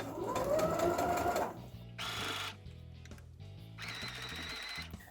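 Sewing machine stitching across the top of a fabric face mask, loud close whirring runs separated by short pauses and softer mechanical clicks.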